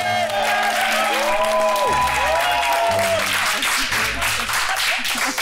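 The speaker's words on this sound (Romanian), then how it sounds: "Să aplaudăm pe cine că-i ziua." A group applauds a birthday with dense, continuous clapping and some cheering, close and loud, while musical tones and voices carry underneath.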